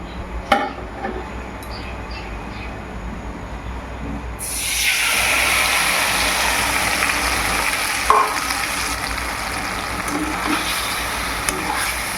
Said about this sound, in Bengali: তো এখন দিয়ে দেব আমি পেঁপেগুলো।